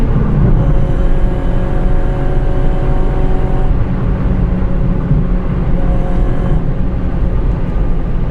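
A remapped Honda Civic Type R FD2 engine holds high rpm in VTEC, giving a loud, steady, droning roar with a constant harmonic whine throughout and no voices.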